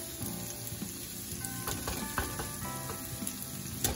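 Potatoes hit a hot frying pan for a potato, bacon and chorizo burrito filling, giving a steady close sizzle of frying with a few light utensil clinks and no talking.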